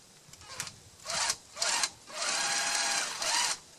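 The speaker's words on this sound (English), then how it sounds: "I'm going to drill, use an 1/8-inch drill bit. I'm going to drill a hole through the hinge." A power drill with a 1/8-inch bit bores a hole through a hinge on a wooden chicken coop composter, sounding as four short whining bursts, then one longer sustained run, close and fairly quiet with brief pauses between.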